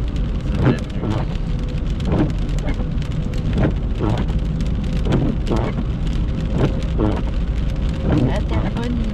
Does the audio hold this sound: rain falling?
yes